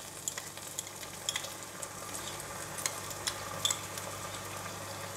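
Sesame oil, oyster sauce and dark soy sauce with dried prawns stirred in a wok for kam heong prawns, giving a steady low sizzle with scattered spatula scrapes and clicks throughout, no voices.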